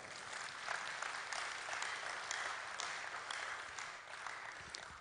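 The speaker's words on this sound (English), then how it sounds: "Clap for ourselves." A group of people clapping steadily together, a sustained even patter of applause lasting several seconds with no talking.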